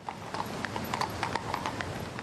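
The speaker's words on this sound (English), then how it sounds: "you could hear the hooves of horses on the cobbled streets of Scotland's capital" Horse hooves clip-clop at a slow, steady walking pace on the cobbled streets of Edinburgh, Scotland, during a funeral cortege procession, clear and moderately near against a quiet crowd with no talk.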